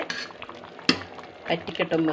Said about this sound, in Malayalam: ഇടക്കിടക്കൊന്ന് ഇളക്കി കൊടുക്കാഞ്ഞാൽ ദടി പിടിക്കും അതിനാണ് ഇറക്കി ഇളക്കി കൊടുക്കുന്നത്